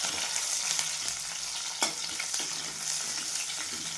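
Onions sputter in very hot oil with cumin and mustard seeds, giving a dense, even sizzle with occasional louder pops and stirring scrapes close by.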